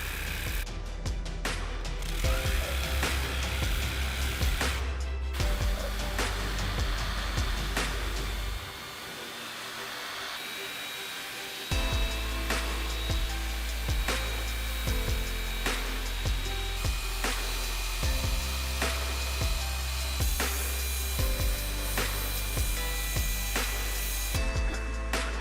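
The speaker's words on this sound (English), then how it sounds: "let me show you the ways that I use this WORX HydroShot to clean things around my house" A WORX HydroShot 40-volt cordless pressure washer cleaning around a house makes a loud, continuous motorized hiss and spray, with a brief quieter gap in the middle before it starts up again.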